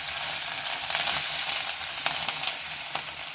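Fresh turmeric frying in ghee, a loud continuous close sizzle with occasional stirring scrapes and no talking.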